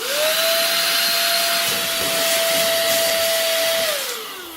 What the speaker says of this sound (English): definitely really impressive suction and also blowing power